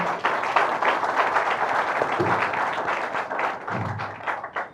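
Wedding guests at an official civil marriage ceremony break into steady applause, a dense wash of clapping with a few louder thumps, fairly close and continuing for several seconds without speech.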